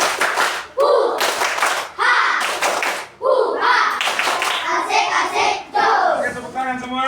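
A class of children claps a rhythmic cheer in short bursts of sharp hand claps, chanting along loudly in unison between the claps.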